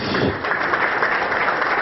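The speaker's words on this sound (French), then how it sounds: "Merci d'applaudir" Audience at a fibre network launch ceremony for Mauritius Telecom applauds steadily, a dense even wash of clapping filling the short moment with no voices on top.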